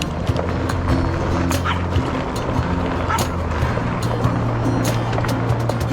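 A dog barks in short sharp bursts beside an English canal, loud and close, over a low steady engine hum from a canal boat.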